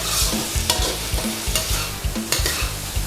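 Pork liver being stir-fried in a pan, with loud rhythmic scraping strokes of a spatula over a constant sizzle, close up, several strokes in quick succession.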